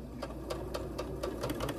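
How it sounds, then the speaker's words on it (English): A sewing machine stitches quilt pieces in a quick, even run of mechanical clicks, about four per second, close up and steady at low volume with no speech. "I'm going to sew down that side a quarter inch off of that line we drew"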